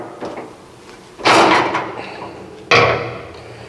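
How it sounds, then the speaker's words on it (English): Wrench work loosening a jam nut on a mechanical dock leveler's lip assist spring adjuster: two sharp metallic clanks with a ringing tail, a lighter knock at the start, no talk. "we need to loosen the jam nut that is holding the adjusting nut in place"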